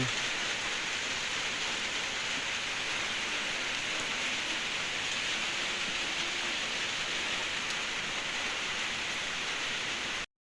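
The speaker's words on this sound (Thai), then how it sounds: "ฝนตกก็บ่หยุดเนาะ" Steady, dense rain hisses without a break, an even wash of falling water with no voices.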